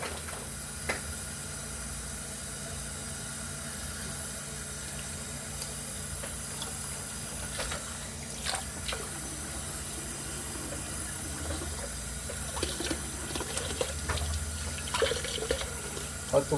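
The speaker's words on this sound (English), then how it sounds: "we're just going to turn the water on" Water runs from a tap in a steady, soft rush, with occasional clinks and handling noises over it.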